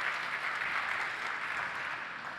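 Audience applause at a Google I/O developer talk on Android autofill, a steady broadband wash of clapping from a large crowd held evenly throughout, with no voices over it.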